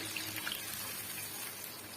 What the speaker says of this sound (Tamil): மூணு கப் அளவுக்கு நான் தண்ணி சேர்த்துக்கிறேன்